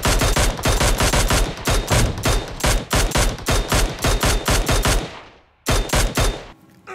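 Rapid bursts of automatic gunfire in the mobile battle royale game PUBG Mobile, loud and close, firing in repeated volleys with a short pause before a final burst.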